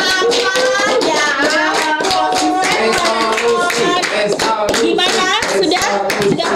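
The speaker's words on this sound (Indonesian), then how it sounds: "Tepuk tangan dong." Hand clapping from a small group at an Indonesian talk session on New Year's resolutions, brisk and continuous, close and loud, mixed with bright music and some voices.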